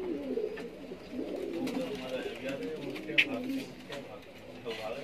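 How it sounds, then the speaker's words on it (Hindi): Golden Gajra pigeons cooing in soft, low, murmuring calls under men's conversation, with a few brief sharper sounds from the birds nearby. "बाकी ये गोल्डन कबूतर है, गोल्डन जो आप कहेंगे, गोल्डन गजरा कबूतर कहेंगे।"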